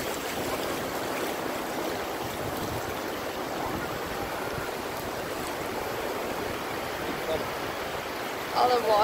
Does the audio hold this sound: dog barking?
no